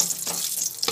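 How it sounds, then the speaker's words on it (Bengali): Cumin, whole garam masala and a bay leaf frying in hot oil: a brief, close sizzle with a couple of sharp stirring bursts. "সব দিয়ে একটু ভেজে নিচ্ছি।"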